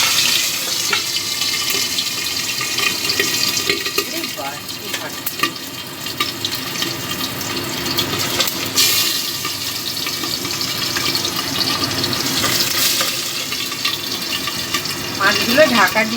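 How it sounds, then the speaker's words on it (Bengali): Fish sizzling in hot oil in a home kitchen pan, a steady loud crackle and hiss running throughout, with someone talking over it. "আমি 3টে করে মাছ ভাজবো।"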